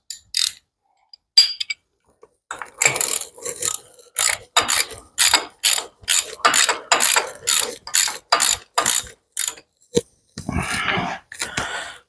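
Close, loud ratcheting of a wrench turning a bolt on a trailer axle, in a long run of evenly spaced clicking strokes with short pauses, ending with a brief rougher burst.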